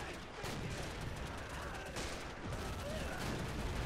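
Rapid gunfire from a WW1 trench assault in the video game Men of War: Assault Squad 2, a dense, continuous volley of shots and distant battle noise filling the whole stretch at moderate loudness.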